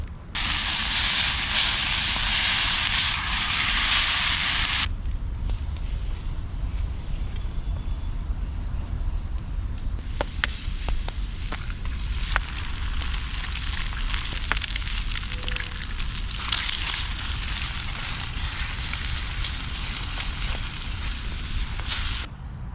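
A third of a stick of butter hissing and sizzling in a pan over a campfire at a kayak camp, a loud steady sizzle with sharper crackles and spits, close by, no talking.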